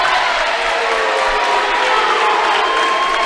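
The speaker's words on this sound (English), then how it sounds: "The crowd Crothersville is really not liking that." A high school basketball crowd at a sectional game roars in a loud, sustained wash of voices and jeers after a foul call, filling the whole gym without a break.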